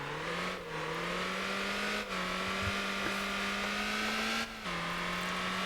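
A racing car engine in the Motor Town game howls loud and close, climbing in pitch through the gears with sharp drops at each upshift, steady and continuous without any talking.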